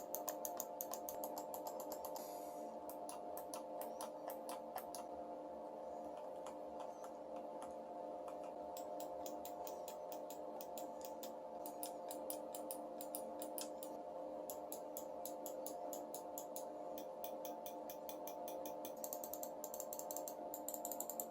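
Quick runs of small, crisp MSI gaming mouse button clicks, close and quiet, repeating in bursts over a faint steady hum.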